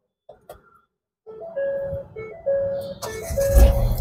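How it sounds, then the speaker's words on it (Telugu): A 2017 Ford EcoSport Titanium Plus starts with its push button: a few short electronic chime tones sound first, then the engine cranks and catches in a louder burst near the end, close by. "స్టార్ట్ అయింది బండి."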